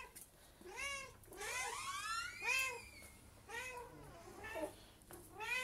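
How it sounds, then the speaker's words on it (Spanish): Pet cat meowing repeatedly indoors, several drawn-out, rising and falling meows in an uneven series, fairly close and clear, with no talk over them. "Mirad, mi gatita."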